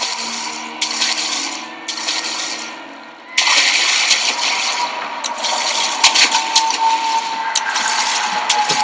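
Water splashes and sloshes through a flooded room in Amnesia: The Dark Descent, with soft rubbing movement first, then a louder, sustained churning splash with scattered sharper spatters.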